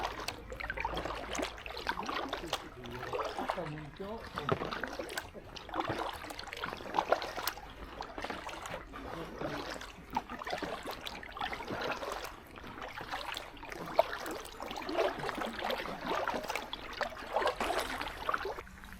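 Paddling an Itiwit PR500 packraft on open water near sandbanks, with steady watery trickles and splashes from repeated paddle strokes close by, no talking.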